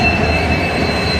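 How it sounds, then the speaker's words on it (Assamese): A passenger train pulls into a station on an Assam-to-Delhi journey, its steady rumble filling the clip with a high, sustained wheel squeal running over the top, loud and close for about a second. "আমাৰ ট্ৰেইন আহি গ'ল"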